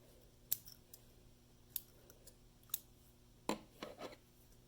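Small scissors snip excess thread while tying a foam beetle fishing fly, giving four or five sharp, close, isolated clicks spaced about a second apart against a quiet background.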